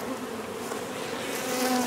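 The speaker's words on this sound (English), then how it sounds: "So I'll let these bees calm down," Honeybees buzzing steadily after being moved from a five-frame box into a painted ten-frame hive, a dense continuous hum that swells slightly toward the end, with no voices.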